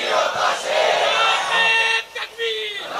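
A large religious gathering answers the Takbir chant together, a sustained loud roar of many voices that briefly drops and then surges again.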